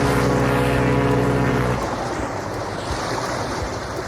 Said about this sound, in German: Komm, wir steigen ein und schauen auf die Wellen.